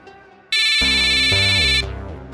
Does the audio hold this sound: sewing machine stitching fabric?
no